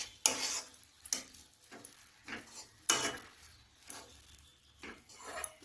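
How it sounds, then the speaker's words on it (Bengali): Kata pitha dough being stirred in a pan to dry off the water; a series of brief scraping and clattering strokes at irregular intervals, close and fairly quiet, with a faint sizzle between them and no voices. "নেড়ে চেড়ে জলগুলোকে শুকিয়ে নিতে হবে।"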